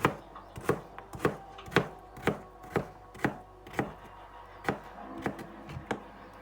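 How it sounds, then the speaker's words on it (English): A knife chops a carrot on a cutting board in a steady series of about a dozen crisp, close knocks, roughly two per second, with quiet pauses between strokes and no voices. "cut the carrot in two, slice it like this again"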